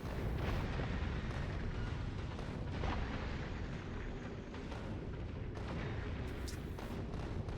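Rocket explosions in a video game boom in a dense, continuous rumble of overlapping blasts, heavy and fairly quiet overall, with no pauses between impacts.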